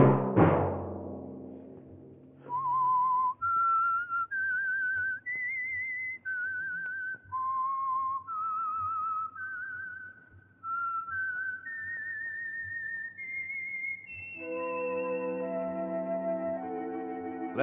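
A melodic theme tune whistled alone for a radio program, clear and sustained, stepping through rising and falling notes after a brief low burst at the start.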